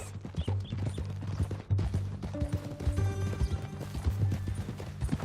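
Horse hooves clip-clop steadily in Red Dead Redemption 2, a close, rhythmic trot of hoof falls continuing throughout with faint tonal game sounds layered in the background.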